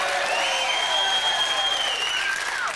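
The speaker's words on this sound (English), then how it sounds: "I gave him a round of applause." Audience applause in a television comedy studio, a steady wash of clapping with cheering or whooping voices riding over it throughout.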